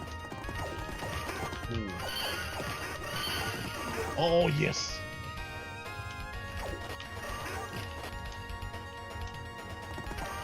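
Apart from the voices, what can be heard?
horse in the video game Knights of the Round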